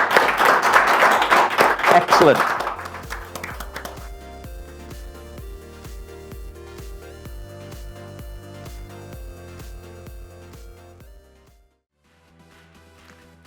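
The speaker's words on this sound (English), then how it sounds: "I think that's worth a round of applause, everybody" An audience applauds at a live grand final after the winner of an apprentice and student bonnet painting competition is announced; the close, loud clapping lasts about three seconds before giving way to music, and a voice speaks briefly.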